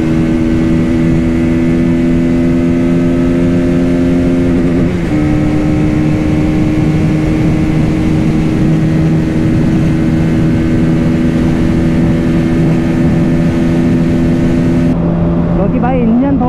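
Bajaj Pulsar NS200 motorcycles run flat out in a drag race, a loud sustained engine whine holding at high revs as if on the limiter, steady and close for most of the stretch before cutting off near the end.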